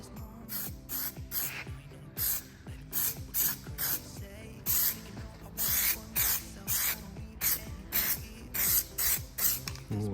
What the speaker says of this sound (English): So I'm just going to spray like this, spray the tyre as well.